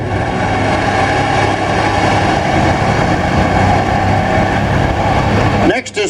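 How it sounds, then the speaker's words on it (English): A 1969 John Deere 1020 tractor at a vintage tractor show runs steadily with a low, continuous engine hum, while a voice talks over it throughout. "Next is Pat Dieter with her 1969 John Deere 1020 IU."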